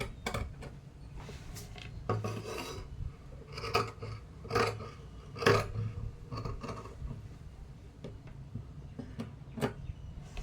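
Scissors snipping through blouse fabric during tailoring, a series of short crisp cuts and rasps at close range with brief pauses between strokes, no talking.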